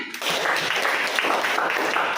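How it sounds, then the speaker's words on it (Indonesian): A classroom of students clapping together in a brief, dense round of applause that starts abruptly and holds steady. "Tepuk tangan untuk Putri."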